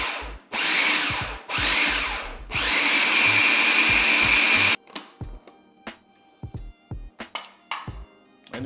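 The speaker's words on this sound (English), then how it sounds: "we're gonna close up our food processor and we're gonna just turn this on and maybe pulse it a little bit" A food processor pulses smoked chicken ranch chicken salad ingredients: two short, loud whirring bursts, then a longer steady run of about two seconds, followed by quieter clicks and knocks of the bowl and lid as it stops.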